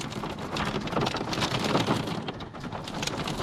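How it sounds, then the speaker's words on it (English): Hailstorm at a campsite in Sweden, a dense steady patter of stones striking surfaces, loud and close with no voices. "and we have a hailstorm"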